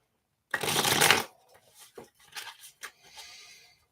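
A deck of tarot cards is shuffled in one loud burst of riffling, followed by softer scattered flicks and taps as cards are handled and laid out close by.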